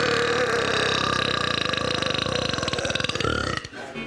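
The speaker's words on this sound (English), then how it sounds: "we all burp, and that's because when we eat and drink, we also swallow air, and it needs to come out" One long, loud, rumbling burp from a man known for impressive burps, close and sustained for several seconds with a pulsing rattle before it cuts off.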